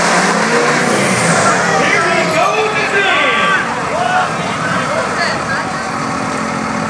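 Dodge and Chevy 4x4 trucks rev loudly in a tug of war at a motorsports event, steady roaring engine noise with crowd babble and talk mixed in throughout.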